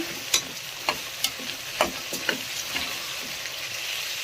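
Chickpeas frying in oil with onions in a pan: a soft, steady sizzle with a handful of sharp clicks and scrapes as a spoon stirs them, close and moderately quiet.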